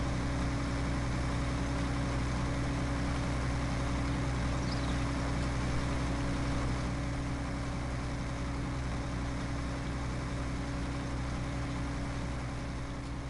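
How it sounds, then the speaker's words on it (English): A tractor in Farming Simulator 19 labours up a slight uphill slope while working a field, its engine a steady, loud low drone held without a break throughout, with no talk over it. "Sure he's working that tractor hard"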